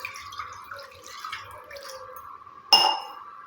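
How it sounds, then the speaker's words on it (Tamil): Water splashes suddenly into an iron pan, a short close gush after a few seconds of faint clinking. "இதில் 1 டம்ளர் அளவு தண்ணி சேர்த்துக்கோங்க."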